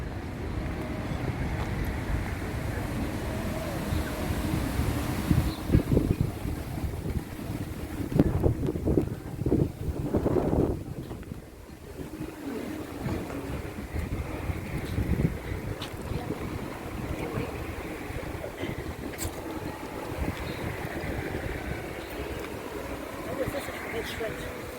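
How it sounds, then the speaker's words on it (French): Wind buffets the microphone in low rumbling gusts that swell and fade over a long stretch of outdoor ambience in the Camargue, France. "parce qu'il fait du vent et j'ai peur que vous n'entendiez pas grand chose."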